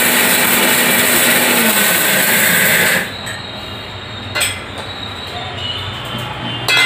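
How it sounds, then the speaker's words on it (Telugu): A kitchen mixer grinder roars loudly while grinding coriander seeds into coarse powder, then cuts off after three seconds, leaving quieter clicks and handling noises with a brief restart burst at the end. "కొంచెం బరకగా కొంచెం ఫైన్ పౌడర్లో వచ్చేటట్టు పట్టుకోవాలి మిక్సీ"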